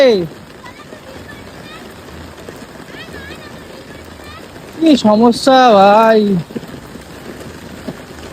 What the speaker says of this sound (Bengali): বৃষ্টিতে পুরো জাস্ট কি অবস্থা বাপরে বাপ কি জোর বৃষ্টি নেমেছে